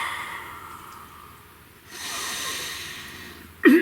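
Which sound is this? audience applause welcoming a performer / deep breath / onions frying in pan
deep breath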